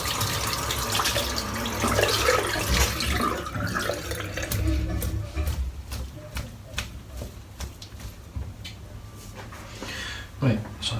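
A custom shaving brush rinsed under a running tap, water splashing and gurgling steadily at first, then breaking into scattered drips and small splashes, with someone talking over it.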